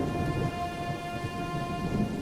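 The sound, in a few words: heavy rain and thunder in cartoon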